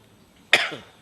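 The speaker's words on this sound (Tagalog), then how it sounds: "Basta ganun na ubo." A single sharp cough bursts out after a quiet stretch, loud and close, trailing off into a brief rough exhale.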